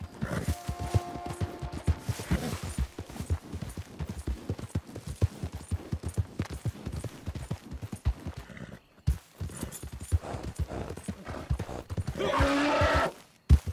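Horse hooves clip-clopping steadily in the game Red Dead Redemption 2, a dense run of close, even hoofbeats with a brief pause and a burst of louder rustling noise near the end.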